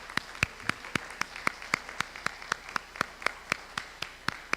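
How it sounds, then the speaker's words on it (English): Steady rhythmic clapping from a lecture audience at a faith and environment talk, evenly paced claps in a quiet hall, sounding like a smaller group applauding together. "give another round of applause"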